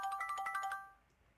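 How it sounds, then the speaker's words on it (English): A phone ringtone plays a short, bright melodic pattern of quick repeated chiming notes, then fades out quickly. It sounds close and stands alone with no talk. "my phone rings"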